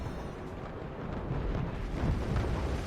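Missile salvo explosions in the artillery strategy game Forts, a continuous rumbling roar of blasts that swells louder toward the end, dense and heavy with no talking.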